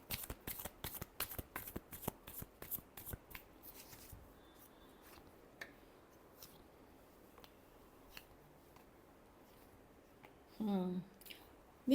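Playing cards are shuffled in quick riffling bursts up close, followed by scattered soft taps and card handling at low volume, with a brief louder rustle near the end.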